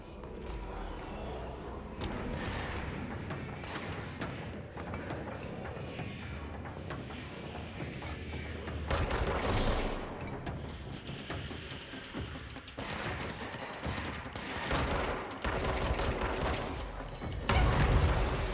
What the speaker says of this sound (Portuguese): Que porra foi essa? Uma granada?